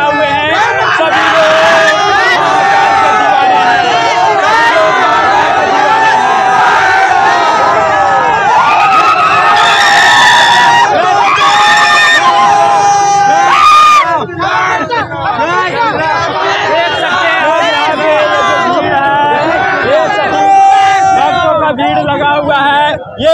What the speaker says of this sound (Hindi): सभी भक्तों का भीड़ लगा हुआ है, सभी लोग यहाँ पे इकट्ठा हुए हैं